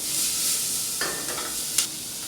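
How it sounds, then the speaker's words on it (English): Diced onion sizzles in a hot pan with a steady hiss, punctuated by a few brief stirring scrapes and crackles. "take the onion that you diced earlier and put that in. You hear that?"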